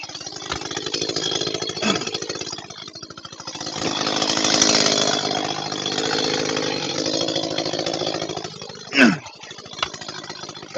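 A civilian chainsaw bites into a log, its engine snarling loud and close with rising and falling revs through the cut, then dropping back toward idle near the end.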